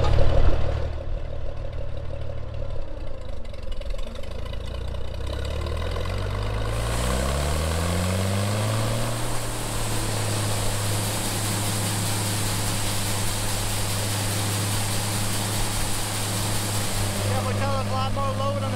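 A tractor-powered farm grinder mixer starts back up, its engine and machinery rising in pitch and then settling into a loud, steady drone that fills the whole stretch without pause.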